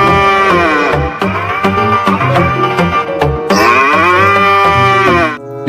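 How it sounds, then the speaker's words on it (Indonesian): Cow mooing in the video game Jurassic World Evolution 2, long loud low moos repeated close up over a soundtrack with rhythmic percussive hits. "Wadidaw, ternyata ini hewan sapi."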